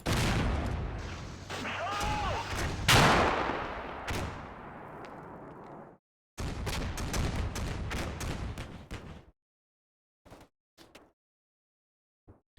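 7.62 machine gun fire in the Combat Mission Black Sea computer game comes as sustained rattling bursts, loud and dense at first, then breaking into a few short, isolated shots separated by silence.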